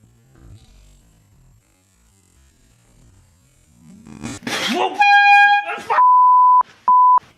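A handheld air horn goes off in a workshop in several short, sharp, loud blasts, with a bit of rustling and a brief burst of noise just before, and quiet otherwise.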